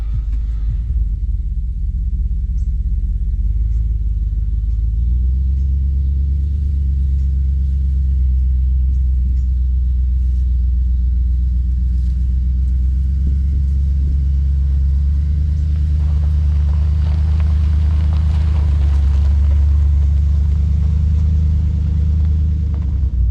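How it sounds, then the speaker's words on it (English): A truck engine idles and warms up on a cold morning at a camp, a steady loud low rumble that holds throughout with slight swells near the end and no voices. "Truck's finally starting to warm up."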